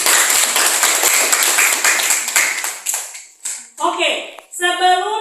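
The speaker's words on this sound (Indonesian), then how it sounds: "Kita tepuk tangan dulu." A classroom of students clapping hands together, a dense burst of claps that thins out and gives way to voices talking near the end.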